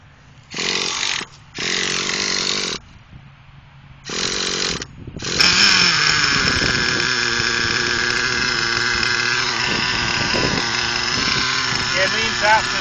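A fuel-engined remote control truck sputters in short bursts, cutting out between them, then catches and runs continuously with a loud, high, buzzing whine, close to the listener.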